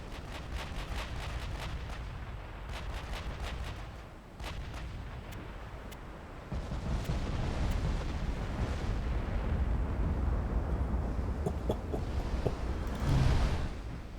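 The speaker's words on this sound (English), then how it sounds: "the might of the US Navy opens up. Thunderous roar of 18-inch guns." Heavy 18-inch naval guns of a US battleship boom in a rapid run of loud, thunderous shots in a naval strategy video game, the blasts overlapping into a sustained rumbling roar.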